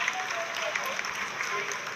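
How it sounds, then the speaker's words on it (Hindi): Applause from an audience watching the Chandrayaan 3 lunar landing descent, a dense continuous patter of many hands clapping that fills the space, with voices blended into the crowd noise. "आप तालियों के गड़गड़ाहट से सुन सकते हैं"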